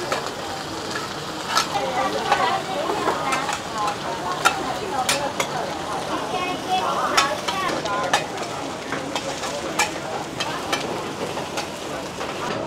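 Oil sizzling loudly and continuously as Taiwanese street food fries at a stall in Taipei, with frequent clinks of a utensil, and someone talking over it.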